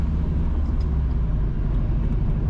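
A car travels north on the Highgate to Richmond Road in St. Mary Parish, Jamaica. The engine and tyre rumble is steady and fairly quiet from start to finish, and no one speaks.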